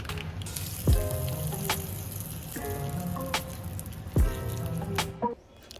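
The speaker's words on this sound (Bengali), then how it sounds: "তারপর কারি পাতাটা এর মধ্যে দিয়ে ফোড়ন করা হবে চাটনিটার ওপরে দেওয়ার জন্য" Curry leaves and black mustard seeds temper in hot refined oil with a steady close sizzle, broken by a few sharp crackling bursts as leaves hit the oil.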